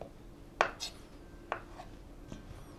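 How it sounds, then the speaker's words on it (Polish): Knife cutting cooled boiled potatoes into large chunks on a board: three sharp, clear knocks spaced about a second apart, close and moderately loud, with quiet room tone between. "Kroimy je w dosyć duże kawałki."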